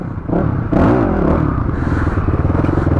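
A motorcycle repaired after a crash runs close by, its engine note rising in a brief rev and then settling into a steady, slightly rough idle with some clatter. No one speaks.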